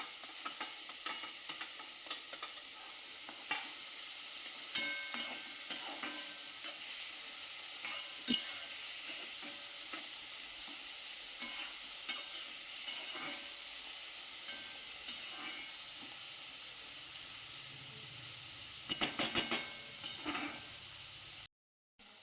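Carrots sauté in a pan for moong pulao, with a steady, fairly faint sizzle and intermittent scraping stirs, and a brief flurry of clattering strokes near the end.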